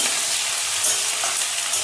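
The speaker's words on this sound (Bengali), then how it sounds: "সেদিকে পেঁয়াজ ভাজা বসিয়ে দিয়েছি" Onions sizzle and fry loudly in a hot pan, a steady crackling hiss close up.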